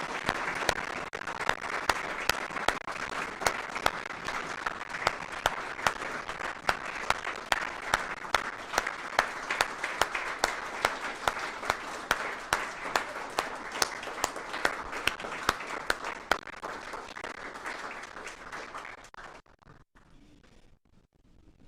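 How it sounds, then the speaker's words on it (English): Sustained applause from an audience at an awards ceremony, steady dense clapping with some louder individual claps, lasting about twenty seconds before tapering off into quiet. "I just want to give you a round of applause"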